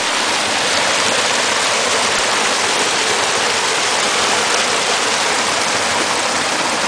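A mountain creek rushes steadily nearby at a campsite, a loud continuous wash of flowing water with no pauses.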